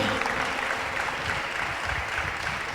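A pastors' meeting audience claps together after a Telugu sermon, a steady, moderately loud wash of many hands with no clear breaks.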